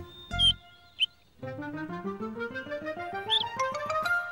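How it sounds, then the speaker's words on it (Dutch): A young bird chirps in a few short, high, bright bursts during a children's stage show, followed by a rising musical scale that climbs steadily in pitch. "Het is het tjulpen van een jong vogeltje."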